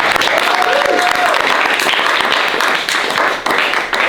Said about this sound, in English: can we get a round of applause for Lisa for tuning your guitar?